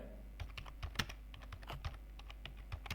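Keys on a computer keyboard are tapped in an irregular typing rhythm as a sentence is entered, crisp close clicks over a low steady hum.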